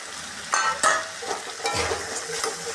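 Tomato pieces fry with fish masala in a pan, giving a bright steady sizzle with a few spatula stirs and scrapes, close and alone.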